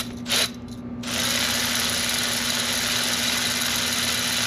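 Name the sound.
electric ratchet on sway bar bolt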